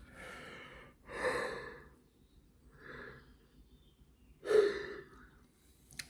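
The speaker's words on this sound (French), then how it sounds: "Les bâillements sont bizarres, ils sont moins intenses que les dernières fois." Quiet, breathy yawns and sighs come in several soft exhalations spread across a few seconds, close and alone with no talking.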